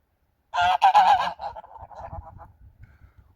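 A flock of domestic farmyard geese, seven geese with one gander, honks loudly and close by in a burst of overlapping calls, then trails off into quieter, scattered honks.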